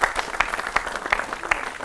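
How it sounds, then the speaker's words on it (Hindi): A studio audience on a television debate show claps to welcome a guest, a dense steady applause with scattered louder individual claps throughout a short stretch. "उनका भी जोरदार तालियों से अभिनंदन करिए"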